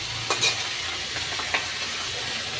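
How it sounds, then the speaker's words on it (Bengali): Fish fries in a pan of oil with a steady, close hiss and sizzle, broken by a few soft scrapes and taps as the pieces are stirred. "মাছ ভাজিটা বসাই দিলাম"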